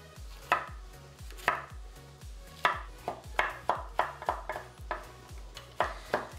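Knife chopping bell pepper on a cutting board for crab soup, a steady series of about a dozen sharp, close thuds with bright clicks, sounding alone.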